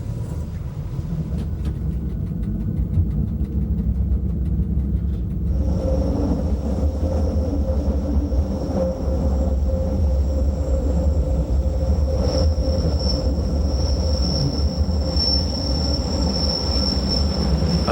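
A Montreux-Oberland Bernois train rolls steadily along the rails above Montreux, Switzerland, with a continuous low rumble, joined midway by a sustained high metallic wheel squeal that swells and fades.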